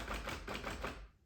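Keys clack on a 1946 Smith Corona Clipper manual typewriter, a quick run of about five close, crisp strikes that stops near the end and is followed by quiet.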